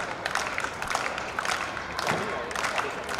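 A crowd at the Indian Grand Prix in Bangalore cheering and applauding, a dense wash of clapping and shouts that swells in waves, moderately loud and somewhat distant, with some talking mixed in.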